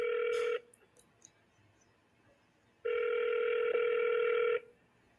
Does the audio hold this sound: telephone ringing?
yes